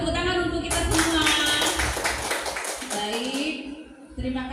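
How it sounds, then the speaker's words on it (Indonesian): Applause from the audience at a school event at SMP Negeri 1 Pekalongan, dense clapping with background voices and speech throughout, fading somewhat toward the end. "tepuk tangan untuk kita semua"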